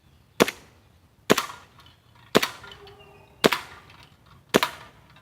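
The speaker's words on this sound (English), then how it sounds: "I would like to do a mag dump for you guys" Five sharp, loud shots from an airsoft 1911 pistol with a shoulder stock, fired alone at a steady pace about a second apart, each a crisp crack with a short tail.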